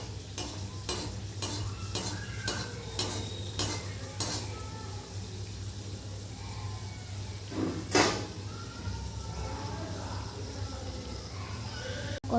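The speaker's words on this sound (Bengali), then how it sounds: "কতগুলো তৈরি হয়ে গেছে আর এখানে ভাজা হচ্ছে।" Indian sweet pitha frying in oil in a kitchen, with a sequence of sharp utensil clinks and taps early on and a soft continuous sizzle beneath, plus one louder clatter midway.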